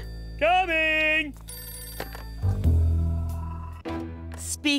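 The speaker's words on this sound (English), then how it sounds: "Dabio, phone! Coming!" A telephone rings in a cartoon, a bright electronic trill repeating in short bursts amid lively character voices and background music.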